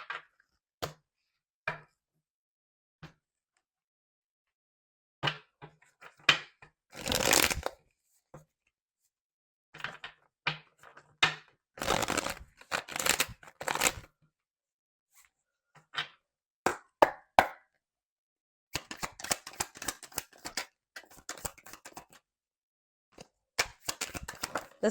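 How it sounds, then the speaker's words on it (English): Tarot cards shuffled in short, separate bursts of riffling and slapping, with quiet gaps between them and denser shuffling near the end. "I'm going to get the tarot."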